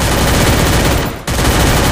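Rapid continuous gunfire from a 4v4 shooting video game, dense and loud throughout with a brief dip near the middle, no voices over it.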